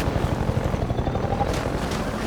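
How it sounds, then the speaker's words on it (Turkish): Helicopter in the video game Half-Life 2, a steady loud chopping rotor thrum with rapid regular pulses that stays close and continuous throughout, no voices over it. "Helikopter orada bizi bekliyor."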